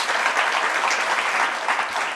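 Audience applause at a Jain religious discourse in Indore, a steady dense wash of clapping for about two seconds with no talk.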